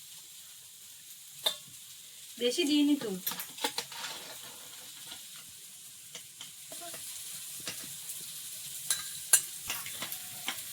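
Duck meat frying and being stirred in a pan with carrots, a steady background sizzle broken by a burst of scraping and stirring early on, with people talking briefly over it.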